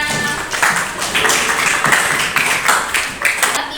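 Classroom applause in a school lesson, a group of students clapping steadily and fairly close for several seconds, with scattered uneven claps and no talk over it.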